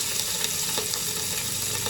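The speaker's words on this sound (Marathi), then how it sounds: "हे थोडे शॅलो फ्राय करणार आहे" Paneer slices shallow frying in a pan for palak paneer, giving a steady, close sizzle of hot oil with faint crackles, continuous and even throughout, with no talking.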